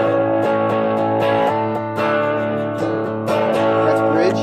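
An electric guitar plays through a Moen GT500 pedal set to its overdrive side, a continuous, loud, compressed driven tone with strummed chords ringing out and no talking.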